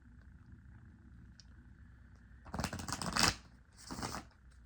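Moonology oracle cards are shuffled by hand in a quiet room. Two short, crisp riffling bursts stand out close to the listener.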